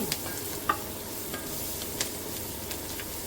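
Half a teaspoon of turmeric stirred into ingredients frying in a pan for a ponnaganti leaf dish, a soft continuous sizzle with a few faint scraping ticks, no talk.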